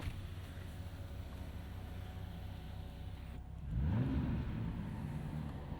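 Ram 1500 RHO pickup with a twin-turbo inline-six in sport mode, heard first as a steady engine drone, then a sharp rev that climbs and falls around the midpoint before settling back, close and moderately loud.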